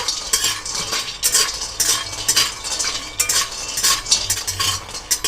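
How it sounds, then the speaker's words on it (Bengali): Lentil dumplings (bori) being dry-roasted in a hot, empty kadai, a metal spoon stirring and scraping against the pan in repeated rhythmic bursts, with faint light crackling between strokes and no talk. "প্রথমেই শুকনো কড়াইতে বড়িগুলো হালকা একটু ভেজে নেব"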